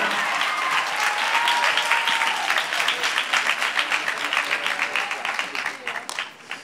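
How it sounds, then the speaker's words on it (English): Warm audience applause at a national dance competition awards announcement for the runners-up, full clapping that thins into scattered individual claps as it fades, with a voice speaking over it early on. "Give them a nice round of applause"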